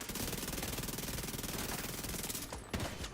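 Continuous rapid SMG gunfire in The Division 2, a loud, dense rattling burst of fast shots that runs steadily for a few seconds before breaking off, with no talking.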